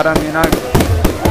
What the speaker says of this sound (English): these fireworks are beautiful